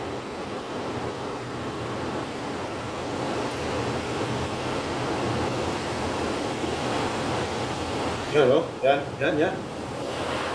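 Strong typhoon wind in Macau roars in a steady, blustery rush, and a voice speaks briefly near the end.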